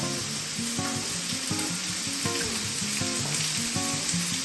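Shrimp paste sizzles hard in a hot pan while cooking for banana leaf grilled fish, a loud, steady frying hiss that runs the whole time over a soft tonal background.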